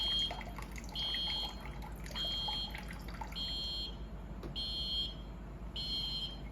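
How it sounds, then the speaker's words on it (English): A flood warning alarm for forced evacuation at a red flood level repeats in quick succession, five high electronic beeps in a steady rhythm over a faint background hiss and trickle. "it will keep beeping until all people have evacuated"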